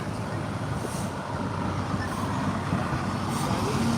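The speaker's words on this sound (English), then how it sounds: "So there's a truck." A truck rolls along a city road in Toronto, a steady broadband rumble of engine and tyres holding level across the whole stretch amid continuous traffic noise.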